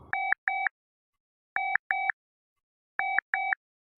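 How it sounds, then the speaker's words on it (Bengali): A telephone rings back after a redial, heard as three clean double-ring pairs evenly spaced in otherwise silent surroundings. "রিং হচ্ছে"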